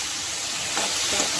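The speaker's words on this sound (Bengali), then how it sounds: "এটা হলো আলু আর বিট ভাজা।" Potato and beetroot pieces fry in a pan with a continuous close sizzle and a brief stirring rustle near the end.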